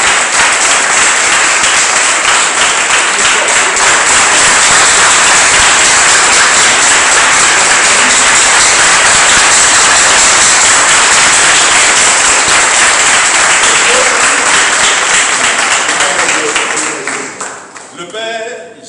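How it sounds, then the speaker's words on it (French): A celebration audience claps loudly and continuously in a dense, sustained wave of applause that carries on at full strength before tapering off near the end, with some voices underneath. "Commencez à applaudir."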